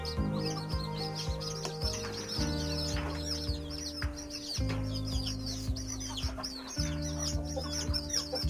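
Young chicks cheeping in a brooder, a steady stream of high, quick peeps over a constant humming drone, moderately loud and close, with no one speaking.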